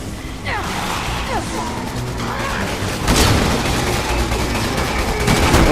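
Resident Evil 6 gameplay brings dense gunfire and booming impacts over a noisy action soundscape, loud and continuous, with a heavy burst of shots partway through.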